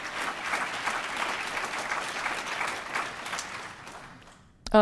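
Audience at a health talk on brain and fatigue breaks into a steady round of applause that gradually thins and fades out, ending with a brief abrupt noise.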